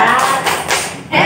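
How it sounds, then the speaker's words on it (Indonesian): Brief burst of clapping from a group, dense and crackly, rising again at the end, with some voices mixed in. "Kita beri tangan tuh, tepuk tangan tuh."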